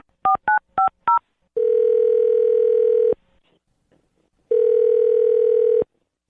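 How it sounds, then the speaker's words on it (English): On a telephone line, four quick keypad beeps sound one after another, followed by two long, steady tones separated by a stretch of silence, all clean and close. "I'm gonna dial his phone number right now"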